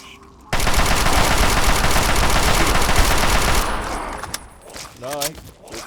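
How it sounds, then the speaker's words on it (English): Rapid automatic gunfire fired at point-blank range in the video game Fallout 3, a loud, dense burst lasting about three seconds, then trailing off into scattered game sounds and a player's voice. "Absolutely gonna shoot at point blank range"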